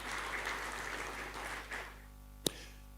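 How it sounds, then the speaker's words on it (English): Faint, thin applause from an audience at a WWF Kenya partnership conference session fades out over a couple of seconds, ending with one sharp knock against a steady low hum. "A hand of applause to those three."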